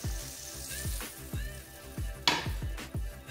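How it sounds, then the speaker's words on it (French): Mushrooms are stirred into a beef bourguignon sauce in a pot, with a regular series of wet, thick swishes and scrapes and occasional light clinks, close by and with no voices. "je vais mélanger pour qu'ils soient bien imprégnés dans la sauce"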